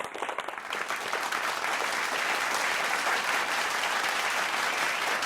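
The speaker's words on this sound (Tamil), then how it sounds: "அரங்கம் நிறைந்த கைத்தட்டலோடு அழைக்கின்றோம்" A packed audience at a school and college students' speaking competition applauds loudly to welcome a guest on stage, a dense, sustained roar of clapping that swells after the first second and carries on evenly.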